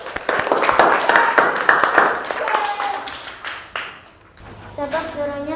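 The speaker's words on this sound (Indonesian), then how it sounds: "Kasih tepuk tangan dulu yuk." Fourth-grade schoolchildren in an Islamic religious studies class clap their hands together, a dense spatter of claps filling the room, fading near the end as a teacher's voice and children's voices take over.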